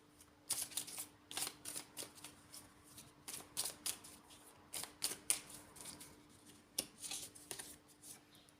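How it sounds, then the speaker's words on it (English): A deck of song cards is shuffled and a card is drawn, giving quiet, crisp riffling taps and flicks that repeat steadily throughout, close by, with no talking. "So I'm going to pull a telepathy song card here."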